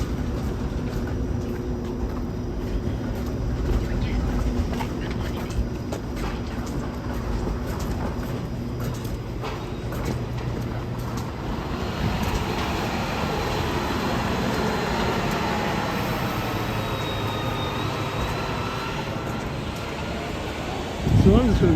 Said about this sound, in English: there's the Queen streetcar